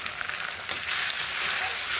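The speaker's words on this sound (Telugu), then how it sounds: "ఆయిల్లో పచ్చివాసన పోయేవరకు వేయించుకోవాలి" Ginger garlic paste hits hot oil for a green chicken curry and sizzles briefly, giving a close, bright hiss that swells after a short pop.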